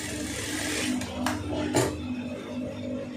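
A sewing machine runs steadily while stitching a folded fabric seam for a side join, a continuous close whirring hum with brief bursts, under light background noise.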